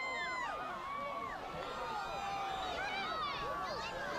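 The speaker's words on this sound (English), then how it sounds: "This is not a quiet crowd." A large crowd cheers and shouts loudly during a total solar eclipse in the moment of totality, with whistles and whoops rising over a steady roar, and people talking close by.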